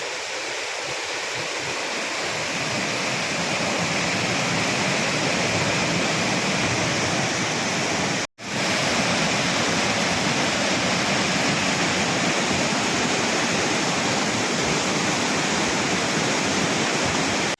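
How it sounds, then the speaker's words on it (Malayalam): Steady, close rush of the small Karinkapara waterfall, a continuous roar of falling water with a brief dropout near the middle. "കൊച്ചു സുന്ദരമായ വെള്ളച്ചാട്ടം അതെങ്ങനെയുണ്ട്"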